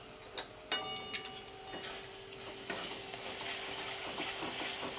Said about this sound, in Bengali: মিডিয়াম আঁচে কষিয়ে নিচ্ছি ভালো করে মশলাটা